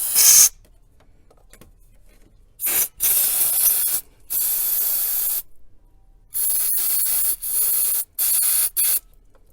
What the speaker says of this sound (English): just shoot brake cleaner down it